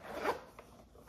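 A zipper on a vintage Coach leather bag slides once in a short, close rasp, followed by faint clicks of the pull settling.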